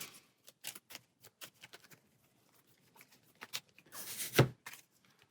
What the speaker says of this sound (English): So we'll go ahead and shuffle our deck and draw 5